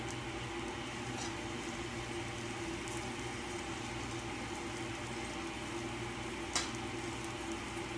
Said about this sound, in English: I will add more olive oil to my garlic. Why? Because I really want it to saute.